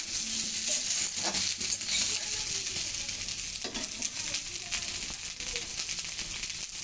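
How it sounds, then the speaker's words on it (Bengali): Vegetable curry fries in a pan with a steady, close sizzle and crackle that runs the whole time, with no talking. "তরকারি কিন্তু সুন্দর করে ভেজে নিয়েছি।"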